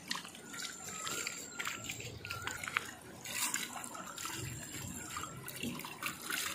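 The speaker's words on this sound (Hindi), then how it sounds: "बल्कि मैं पाँव भी धो देता हूँ।" Water pours and splashes as someone washes their feet outdoors in a village, a faint, steady trickle with intermittent splashes and quiet background sounds.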